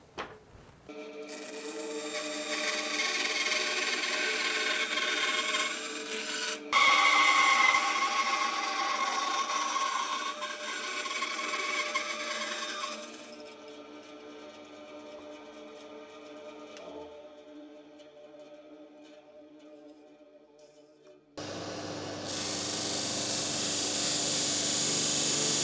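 A hand saw cuts notches out of wooden beams for a board-built shed door, with stretches of rasping strokes broken by pauses, then a louder, brighter burst of cutting at the end.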